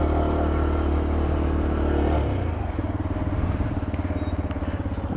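A 2016 Braaap Urban small motorcycle ridden close up, its engine droning steadily before shifting to a lower, pulsing throb as it pulls away and accelerates.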